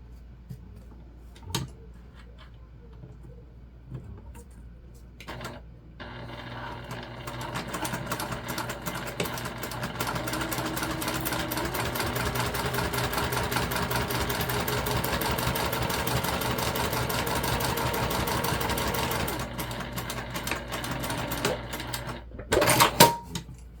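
A sewing machine stitches the front panels of summer beach zip pouches in a steady, continuous run of mechanical clatter lasting most of the passage, starting after a few quiet seconds and stopping near the end, with no talk over it.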